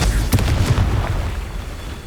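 A Confringo fire-blast spell bursts in the video game Hogwarts Legacy, a loud booming explosion with a sharp crack near the start and rumbling low energy that fades over about two seconds.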